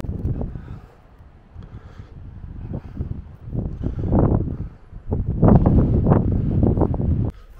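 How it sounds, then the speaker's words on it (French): Strong wind buffets the microphone outdoors, making a continuous low rumbling roar with gusts that swell louder and more turbulent toward the end. No voice is heard. "C'est vraiment extrêmement venteux."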